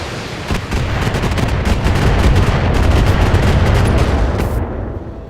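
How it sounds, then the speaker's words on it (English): Mech in the game Battletech unloading a full weapons salvo: a loud, rapid barrage of gunfire and booming impacts overlapping for about four seconds before cutting off, with no talking. "Firing a full salvo."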